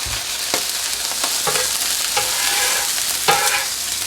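Steady loud sizzling of cheesesteak-style food frying on a hot griddle, with occasional scraping stirs of a utensil, close up and without talk.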